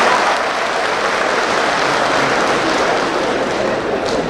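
An audience at an Indonesian election commission national meeting applauds in a hall, a continuous, fairly loud wash of many hands clapping that holds steady from start to finish.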